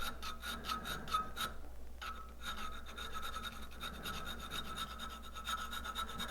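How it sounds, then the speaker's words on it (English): A rat tail file rasping on wood to shape dovetails in a frontpiece, with a rapid series of short rubbing strokes, a brief pause, then steady close filing with no talk. "we're going to use our rat tail file, and we'll come in"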